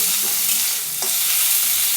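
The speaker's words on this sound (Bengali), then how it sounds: "পেঁয়াজগুলো দিয়ে দেবো ভাজতে" Onions fry in a pan with a loud, steady sizzle and crackle throughout, and a brief scrape of stirring partway through.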